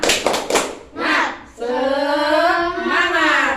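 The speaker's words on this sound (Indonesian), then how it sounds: "tepuk semangat" A classroom group of children clapping out a rhythmic cheer, several quick loud claps in a patterned sequence at the start, followed by children's voices chanting together.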